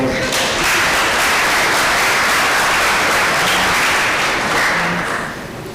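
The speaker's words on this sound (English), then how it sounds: "A round of applause for her." A crowd applauds loudly and steadily, a dense wash of clapping that holds for several seconds before easing slightly at the end.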